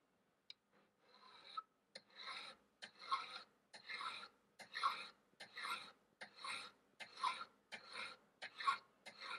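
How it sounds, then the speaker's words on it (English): A fine cut file trims the end of a metal ring strip in steady, close rasping strokes, about a dozen even passes repeating with no talking. "And using a fine cut file,"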